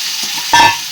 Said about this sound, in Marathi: मी या मसाल्यांमध्ये आपलं कोळंबी आणि बटाटे असे सोडून देणार आहे